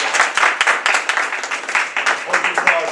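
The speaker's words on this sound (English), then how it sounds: "Hold your applause, please." A meeting audience at a rent control forum claps in a short burst of uneven, fairly close handclaps, with a voice talking over the clapping.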